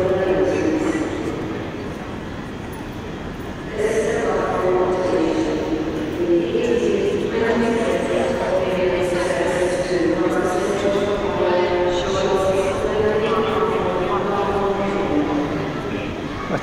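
Busy ambience inside Edinburgh Waverley train station in Scotland: a continuous low rumble and hum with a loud murmur of many voices and occasional footsteps echoing through the hall.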